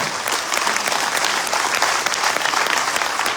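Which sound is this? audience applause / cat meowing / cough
audience applause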